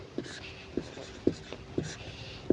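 Pen writing on paper during a math lesson, heard as faint, close scratching strokes with a soft tap at the start of each stroke, about every half second, under low room noise.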